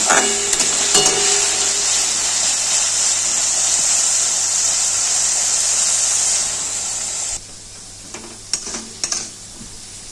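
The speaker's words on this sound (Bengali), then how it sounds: "আলুটাকে এরকম এরকম ভাজতেই থাকবো" Potatoes frying in a pan for an okra and potato stir-fry, a loud steady sizzle for several seconds that drops away, followed by a few scraping stirs.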